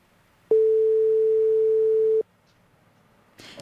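A single steady electronic phone tone sounds for nearly two seconds while a call to Olga is retried, alone and fairly loud, followed by a short burst of faint noise.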